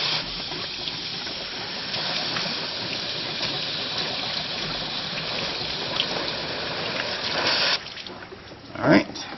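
Water gushes steadily through a heater core hose under flushing, a continuous close rush that surges briefly near the end, with a voice talking over it.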